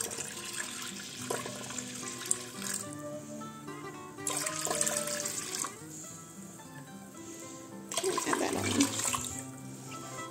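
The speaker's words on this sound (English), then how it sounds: "I'm now going to add in that broth that was cooked with the fish." Fish broth is poured into a soup base paste for Portuguese fish soup, heard as three separate bursts of close, splashing liquid with quieter gaps between pours and no talking.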